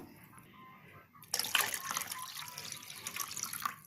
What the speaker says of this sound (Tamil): இப்போ வந்து தண்ணி கொஞ்சம் தண்ணி ஊற்றிக்கலாம்